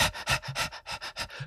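A person imitates rapid panting while running, quick rhythmic huffing breaths close to the ear, about ten in a second and a half, sounding almost like a dog.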